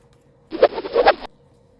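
Paper is folded and creased for a children's paper lantern craft: a short, close rustle and crinkle lasting under a second in a quiet room.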